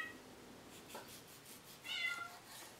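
A cat meows a couple of times, fairly faint and close, with a brief quiet pause between calls and no talking.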